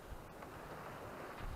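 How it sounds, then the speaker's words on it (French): Steady wind gusting at sea around a sailboat off Cabo Ortegal, a continuous broad rushing roar with low buffeting and a brief sharper gust partway through, with no voices. "Ça y est, le vent revient."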